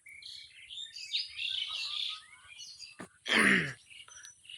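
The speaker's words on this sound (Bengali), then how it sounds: "এই যে ডাকাডাকি করতেছে, শুনতেই পারতেছেন।" Village birds including mynas chirp and call in overlapping bursts, with a louder near call in the middle over a soft steady background hum.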